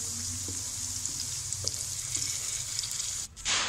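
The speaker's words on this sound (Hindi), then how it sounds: "सब चीज़ों को 2 मिनट के लिए फ्राई कर लेंगे।" Masala chicken ingredients fry in a pan with a steady, loud, close sizzle that runs throughout, briefly dipping near the end as if stirred, with no talking.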